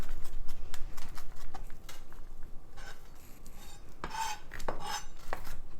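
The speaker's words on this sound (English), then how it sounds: "we're going to chop up 2 large cloves of garlic" A knife taps rapidly on a cutting board chopping garlic cloves, irregular close chopping with occasional sharper clicks and light scraping.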